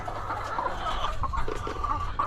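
Several chickens cluck softly and steadily nearby, a low murmuring chorus of short clucks over faint background hum, with no voices.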